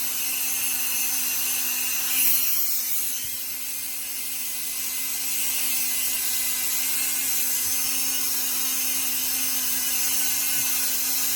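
A Dremel rotary tool trims the edges of a polymer clay pendant with a steady, high-pitched whine that holds nearly unbroken for the whole stretch, close and fairly loud, with no voices.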